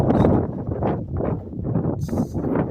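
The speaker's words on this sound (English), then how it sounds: "very windy day right now." Strong wind blowing on a ridge top near a reservoir while camping, loud gusty roaring that buffets the microphone in waves, rising and falling across the whole stretch.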